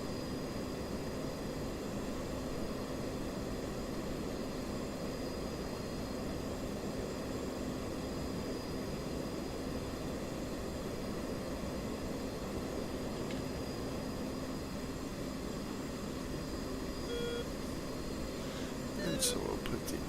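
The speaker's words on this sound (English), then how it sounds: "Gonna give it just a little bit of afterburner." A fighter jet's engine in the DCS flight simulator, with a little afterburner applied: a steady, dense roar that holds evenly for twenty seconds with no breaks.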